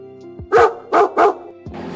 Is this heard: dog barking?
yes